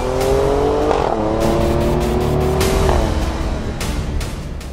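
A 2019 Alfa Romeo Stelvio Quadrifoglio SUV driven hard, its engine and rear exhaust loud and close as revs climb steadily, dip at gear changes and climb again, with no talk.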